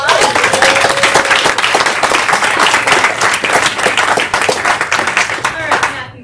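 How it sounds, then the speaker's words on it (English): Audience at a speaking workshop gives a lively round of applause, dense rapid clapping sustained for several seconds before cutting off, with brief voices mixed in. "Give a round of applause."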